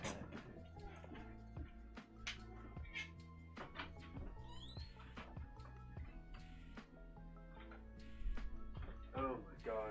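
A house cat meows at a door in a few short cries, mixed in with steady game music and a person talking nearby.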